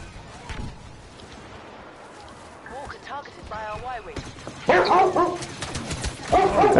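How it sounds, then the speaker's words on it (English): A dog barks a few times inside a house, sharp and fairly close, with more barks near the end, while several people talk over it. "There's a dog in the house."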